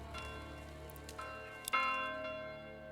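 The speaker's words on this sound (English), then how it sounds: "For whom the bell tolls, change the church bell sound" Church bell in the medieval village game Manor Lords, struck faintly a few times with ringing tones that decay, one stronger strike near the end over a quiet, soft background.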